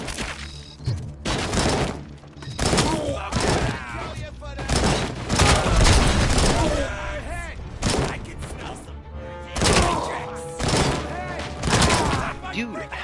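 Assault rifle fire rattles in rapid bursts with shattering impacts during a firefight in Robocop: Rogue City, loud and close, with voices mixed in.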